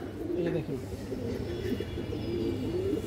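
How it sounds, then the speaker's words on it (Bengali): Two large pigeons coo close by in a loft, wavering low calls rising and falling in several phrases, with a background murmur beneath them. "সাইজও বড় আছে কবুতর, দুটো কবুতরের সাইজ অনেক বড়"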